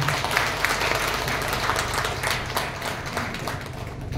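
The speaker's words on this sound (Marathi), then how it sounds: "आपण त्यासाठी पण टाळ्या वाजवू" Audience clapping together in a hall, a steady, fairly loud wash of many hands with a low background hum, sustained without pause.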